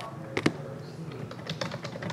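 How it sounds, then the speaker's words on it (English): Quick keystrokes on a computer keyboard, a pair of sharper clicks near the start followed by lighter, uneven tapping, close and fairly quiet with no talk. "Typing them all on the same line."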